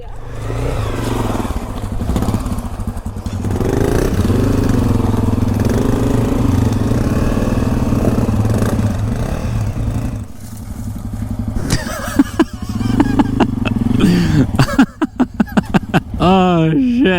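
A dirt bike engine idles with a low, steady chug, then revs in sharp bursts near the end. The sound is close and loud, and people talk over it.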